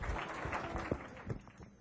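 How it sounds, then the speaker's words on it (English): An audience applauds the victim of a stage act, a dense, steady patter of many hands clapping at a modest distance, with a few sharper claps standing out. "Give him a big round of applause."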